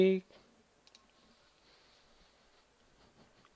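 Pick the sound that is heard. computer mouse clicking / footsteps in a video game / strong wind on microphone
computer mouse clicking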